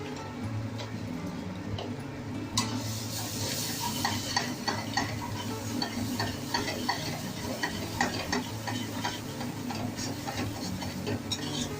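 Garam masala sizzles in hot oil in a kadhai while being stirred for a mushroom curry, with a steady frying hiss and repeated light scraping ticks of the spoon throughout.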